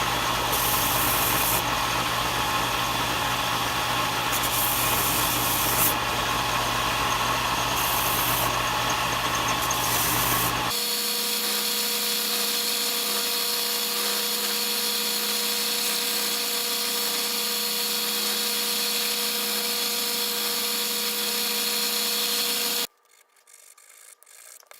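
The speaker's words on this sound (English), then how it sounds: "I'll have to clean that up on the belt sander, get that smoothed up" A belt sander smooths a wooden soap dish, a loud, steady abrasive rubbing and motor drone that changes tone partway through as the load shifts, then cuts off abruptly near the end.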